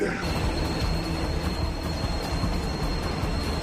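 A train rolling into the next station in a film, a steady low rumble of wheels and carriage noise with a faint high whine running through it, continuous and fairly close, with no talk.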